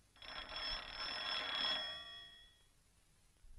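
An old-style telephone bell rings loudly in one continuous burst of about a second and a half in a 1958 Chinese war film, then fades out into quiet room tone.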